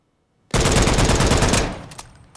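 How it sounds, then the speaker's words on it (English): A .458 SOCOM rifle fires on full auto in Call of Duty Modern Warfare III, one loud sustained burst of rapid shots for about a second, then a fading echo. "Now let's check the 458 SOCOM in full auto."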